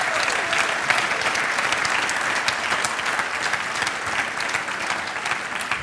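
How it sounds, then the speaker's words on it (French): Sustained, steady applause from a live audience at a celebration evening, dense clapping throughout with no talk on top. "Est-ce qu'on peut l'applaudir bien fort"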